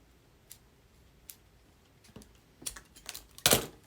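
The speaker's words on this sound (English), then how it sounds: "Just going to take my scissors and just snip off the bottom." Scissors snip through the bottom of a craft piece for a fall teapot centerpiece, a few faint clicks building to several crisp cuts near the end, close and alone.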